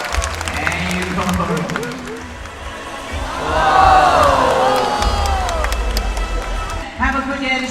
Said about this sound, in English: Bigyan lang ng applause.